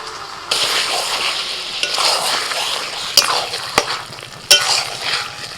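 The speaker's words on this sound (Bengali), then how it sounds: "চিকেনটা ভালোভাবে কষানো হয়ে গেছে" Chicken with ginger paste and coriander leaves sautés noisily in a pan, a loud bright sizzle broken by scraping stirs and a few sharp clanks of the spatula against the pan.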